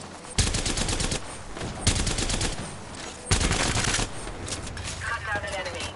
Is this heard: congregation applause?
no